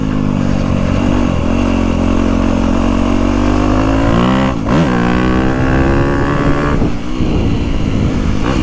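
A 2025 Honda CRF250R Works Edition dirt bike being ridden, its engine loud and close with a sustained high buzzing drone that climbs steadily in pitch, with two brief dips around gear shifts before pulling up again.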